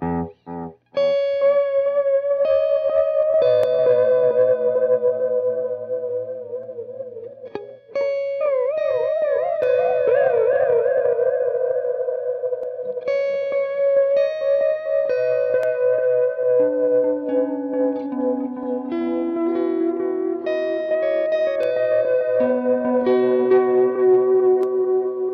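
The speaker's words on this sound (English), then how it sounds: "we can select saw wave and different depths of this saw wave" Electro-Harmonix Deluxe Memory Boy delay pedal with saw wave modulation, a sustained melodic line repeating in warbling, pitch-swept echoes that fill the whole passage without talk.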